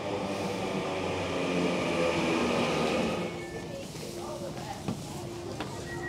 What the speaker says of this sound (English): Final train.